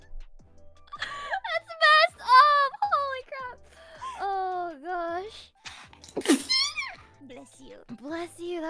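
A voice whimpers and vocalizes, then a single sharp sneeze bursts out, followed by more soft childlike sounds.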